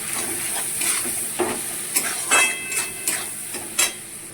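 Fish head and taro stolons being stirred with salt and turmeric in a hot pan, giving a steady sizzle with scraping, clinking strokes of a spoon against the metal at an irregular rhythm, close and fairly loud.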